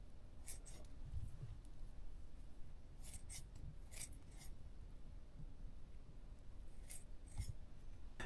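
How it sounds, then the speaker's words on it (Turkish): Kitchen scissors from a Zwilling set snipping cubed meat, repeated crisp blade snips at irregular intervals over a low, quiet background rustle. "kuşbaşı etleri bıçakla uğraşmaya gerek kalmadan makasınızla kuşbaşı doğrayabilirsiniz"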